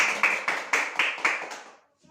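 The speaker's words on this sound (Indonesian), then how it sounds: "Mari tepuk tangan." A small group of mothers claps hands together in unison in a rhythmic, evenly spaced beat of about seven claps, close and crisp, before stopping abruptly, with no talk over it.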